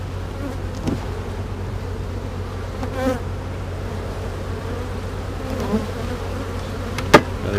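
Honeybees hum in a dense, continuous drone around an open hive frame during a beehive inspection, close and steady, with a few brief knocks and clicks of handling and no talk.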